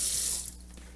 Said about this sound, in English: I'm just going to rinse them a little bit with some water.